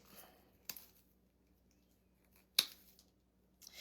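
Scissors snip through wreath craft material in two or three sharp, isolated cuts, quiet and close, separated by near silence.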